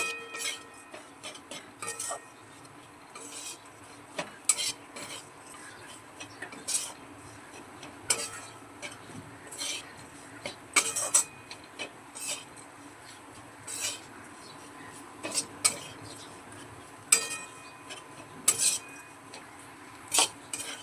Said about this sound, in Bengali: আগের দিন ড্রাই ফ্রুটসগুলো ঘিয়েই ভাজা ছিল তাও অল্প একটু ঘিয়ে ভেজে নিচ্ছি